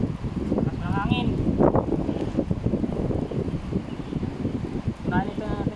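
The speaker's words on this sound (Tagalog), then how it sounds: "Lakas pa ng hangin." Strong wind buffets an outdoor cooking spot where a pan sits over a fire, a steady broadband rush and microphone rumble running throughout, with a person talking over it.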